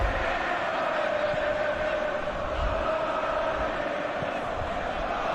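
A stadium crowd in a football video game, a loud, continuous roar of massed voices with a sustained swell, steady throughout the clip.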